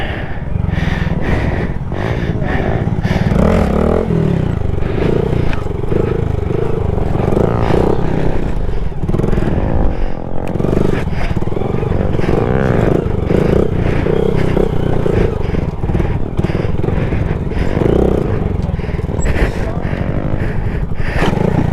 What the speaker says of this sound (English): I want to ride the dirt bike.